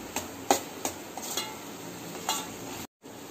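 Chilli powder and turmeric are sautéed in a pan for egg gravy: a soft sizzle under a few sharp clinks of a spoon stirring against the pan, close and sparse.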